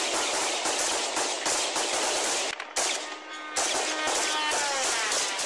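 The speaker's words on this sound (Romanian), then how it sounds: "vedem cum polițiștii dintr-o patrulă au tras asupra unor drone" A police patrol fires guns at explosive drones in Ukraine, sharp rapid bursts of gunfire crackling in quick succession, loud and dense, with a brief lull midway.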